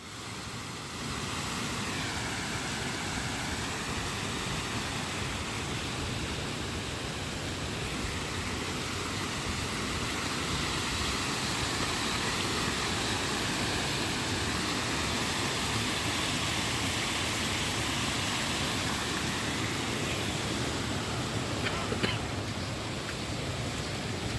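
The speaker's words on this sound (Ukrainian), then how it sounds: "І тепер тут валить отакий водоспад" Water pours steadily over a small dam at an old mill, forming a little pond, as a continuous broadband rush that stays close, loud and even throughout with no voices.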